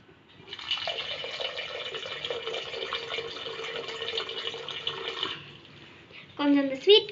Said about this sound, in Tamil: இந்த ஸ்வீட் கார்னை விட கொஞ்சம் மேலே தண்ணி பிடிச்சிக்கலாம்